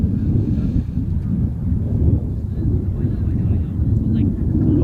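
Model aircraft fly at a design/build/fly competition, a distant low engine drone heard outdoors under heavy wind rumble across the whole stretch.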